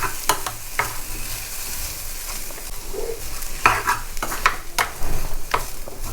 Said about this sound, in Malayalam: ഇപ്പം ഇത് നമ്മൾ ചെറുതായിട്ടൊന്ന് വഴറ്റിയെടുക്കുന്നേ ഉള്ളൂ.